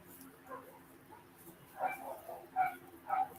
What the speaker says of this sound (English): The other little doggies are barking now.